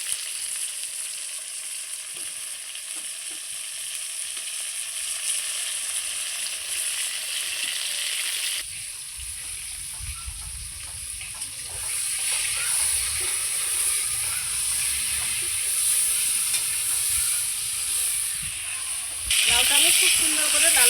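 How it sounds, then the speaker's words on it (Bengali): Cubes of bottle gourd frying in a pan for a fish curry, a steady hissing sizzle that gets louder and fuller as the pieces are turned, with a low rumble joining partway and another rise near the end. "লাউটাকে আমি খুব সুন্দর উল্টে পাল্টে সুন্দর করে লাল লাল করে ভেজে নিচ্ছি।"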